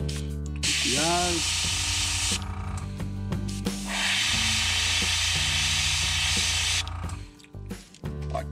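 A spray gun hisses in long bursts while painting a crankbait lure through a stencil, broken by mechanical clicks and brief squeaks, loud and close with no talking.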